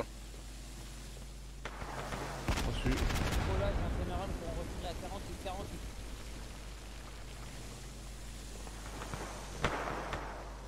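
A volley of rifle and artillery fire rings out in a WWI military roleplay in Garry's Mod, a dense burst of cracks and booms followed by scattered later shots, with radio voices over the battle.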